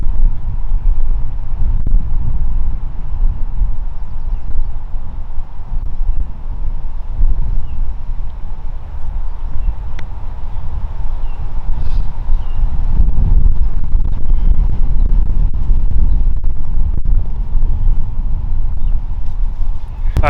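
Wind buffeting a microphone on a golf course at Kiawah Island Club's Cassique Course, a continuous low roaring gust noise rising and falling, loud and close, with no talking.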